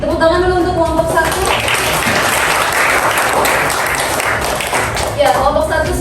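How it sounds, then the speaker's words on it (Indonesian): Classroom applause from a group of students, dense steady clapping filling the room for several seconds, with a voice briefly audible at the start and end. "Tepuk tangan dulu untuk kelompok 1"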